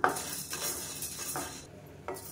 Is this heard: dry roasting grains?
yes